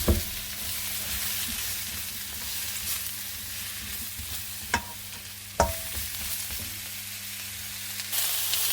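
Chestnut mushrooms with garlic frying in a pan, a steady broadband sizzle with a low stove hum beneath and a couple of sharp clinks from stirring, no voices.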